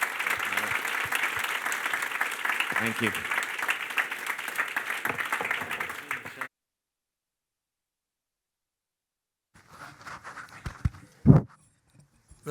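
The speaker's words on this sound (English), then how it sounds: "So please join me in giving a round of applause to everyone on the panel." Audience applause for a sports panel at a London conference session, a dense sustained clapping crowd for several seconds, then silence, followed by a brief scattered return of noise and a voice.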